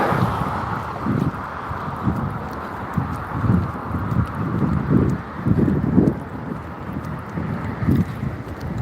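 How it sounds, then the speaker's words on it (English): Cold, bitter wind outdoors on a morning walk, a steady rushing roar with gusty low buffeting against the microphone, continuous and close throughout. "That wind is bitter."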